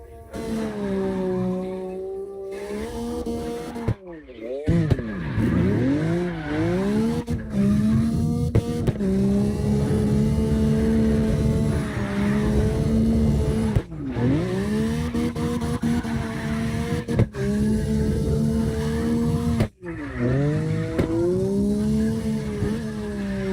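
Several cars drift in CarX Drift Racing Online, including an NSX sliding along a wall on the Navaro Base A map, with engines wailing and revving up and down continuously in overlapping tones.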